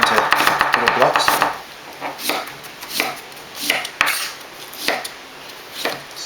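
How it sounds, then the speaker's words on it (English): Peeled sweet potato being chopped into small blocks on a board, a rapid burst of knife strikes followed by slower, evenly spaced single chops, close and crisp. "Just going to chop it up into little blocks."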